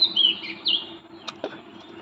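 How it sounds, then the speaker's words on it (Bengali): Early-morning song of an oriental magpie-robin (doel): a couple of sharp whistled notes at the start, then fainter calls and brief soft sounds against a quiet, humming background. "তো এখন দেখি দোয়েল পাখি কি সুন্দর"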